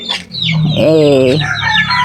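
Close, loud chicken clucks and squawks, with a rising drawn-out call in the middle and quicker calls after.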